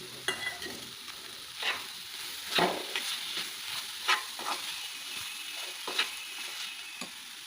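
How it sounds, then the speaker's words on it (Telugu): Carrot halwa is stirred in a pan as milk powder is worked in, with repeated soft scraping strokes at an uneven rhythm, close and fairly quiet. A faint sizzle sits underneath, and no one talks. "ఇందులో మిల్క్ పౌడర్ వేసుకొని కలుపుకుందాము"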